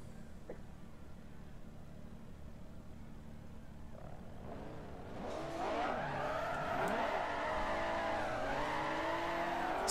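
Supra and S2K drift cars in a video game racing at Road Atlanta, engine noise swelling from a faint hum into loud, sustained revving with wavering tire squeal, the sound alone without talk.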